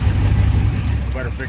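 A turbocharged 5.3 V8 with a freshly swapped head gasket idles with an exhaust leak, a loud, close, steady low rumble with a brief voice toward the end.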